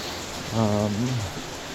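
Heavy rain falls in a steady broadband hiss throughout, with a brief low voice murmuring over it in the middle.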